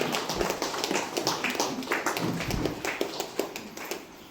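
An audience claps at a birthday event held at an old age home, producing a continuous patter of many hands at moderate loudness, without speech.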